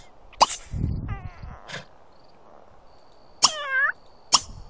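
A cat in The Sims 3 meows a couple of times: a short call near the start and a longer, clearer meow later, with soft clicks and light rustling between them and no talking.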